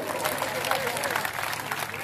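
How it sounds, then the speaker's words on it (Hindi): Crowd applause at a Haryana assembly election rally, a steady dense wash of clapping lasting a couple of seconds at moderate level with voices mixed in. "एक बार जोरदार ताली बजा दो।"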